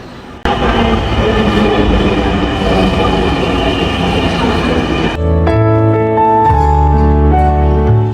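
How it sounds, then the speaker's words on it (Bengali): Loud, steady rumble of a train in motion, then a sustained electric whine of a metro car takes over near the end. "আমি এখন যাচ্ছি ট্রেনে করে ট্রেনে উঠে উঠবো"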